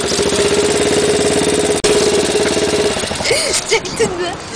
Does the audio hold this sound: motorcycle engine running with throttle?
yes